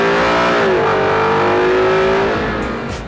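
A Ford Mustang GT's engine accelerates hard and loud, a steady powerful roar whose pitch rises and then holds, fading slightly at the end, with no talking.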